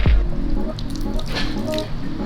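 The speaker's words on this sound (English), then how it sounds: "Just slides right off. Perfect little water droplets." Water droplets bead and run off hydrophobic ClearGuard paint protection film on an Audi R8, a soft dripping and trickling that continues steadily and close by, with no voices.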